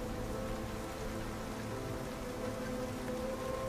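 Steady rain ambience plays as a backdrop for a Game of Thrones tabletop role-playing session, a dense continuous hiss of falling water with soft tonal music threaded faintly underneath.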